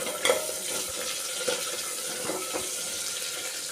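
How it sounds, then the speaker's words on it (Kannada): Finely chopped onions frying in hot oil with cumin and curry leaves, a steady sizzle with a few stirring knocks and a brief louder spatter near the start, no voices. "ಸಣ್ಣದಾಗಿ ಹೆಚ್ಚಿಟ್ಟಂಥ ಈರುಳ್ಳಿನ ಹಾಕ್ಕೊಂಡು ಚೆನ್ನಾಗಿ ಫ್ರೈ ಮಾಡ್ಕೊಳ್ಳಿ"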